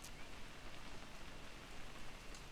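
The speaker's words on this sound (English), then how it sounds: "It's gonna rain the whole weekend, isn't it?" Steady rain falls in the video game What Remains of Edith Finch, a soft, even hiss of drops on surfaces with no break and no voices.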